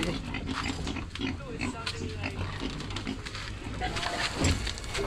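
Pigs grunting and oinking at a farm in Bulacan, Philippines, a steady chorus of nearby grunts with sloshing and background activity throughout.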